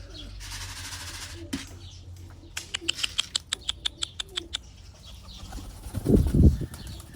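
Young pigeons at a coop, with a rapid series of sharp wing claps, soft cooing and a loud flurry of flapping near the end, no talking.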